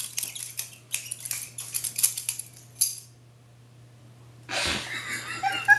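A butterfly knife is handled up close with a quick run of light metallic clicks and rattles, then a silent pause, then a burst of breathy rustling.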